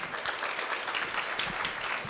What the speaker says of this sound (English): I want you guys to give them a round of applause.